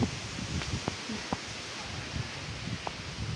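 Strong wind blows through coconut palm fronds with a constant rustle, broken by a few sharp clicks and knocks; no voices.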